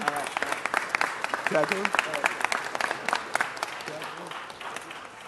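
Audience applause at a city council meeting, a broad wash of clapping running the whole time with someone speaking briefly over it.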